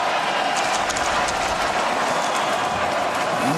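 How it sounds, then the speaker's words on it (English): Arena crowd at an NHL hockey game in the Enterprise Center, Blues against Oilers, making a dense, continuous roar that fills the space evenly at a steady loudness. "Now the crowd making some noise here at the Enterprise Center, as you'd expect."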